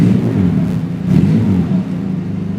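A 1982 Mitsubishi Lancer 1400 SL engine revs loud and close, a rough mid-pitched roar that swells, dips briefly, then surges again and holds on with no talking.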